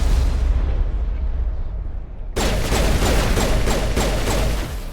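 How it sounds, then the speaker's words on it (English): Rocket launcher explosions in the Mass Effect video game: a dense, loud barrage of booming blasts and rumbling bursts that swells abruptly partway through and keeps pounding without pause. "Camping a corner with a rocket launcher."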